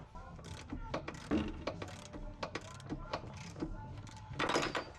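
A ratchet tightens the nuts on solid Demon Speed rear subframe bushings of a Porsche 996, clicking in rapid bursts with short pauses between them, close up and moderately loud, with no speech.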